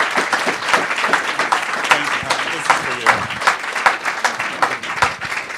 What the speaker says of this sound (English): I just want to ask you all to please give a huge round of applause for Bill